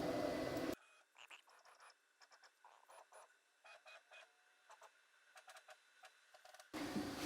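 A 3D printer's motion system makes short, faint stepping whirs and clicks in an irregular series while its probe tool is jogged into position, between louder noisy passages at the start and end.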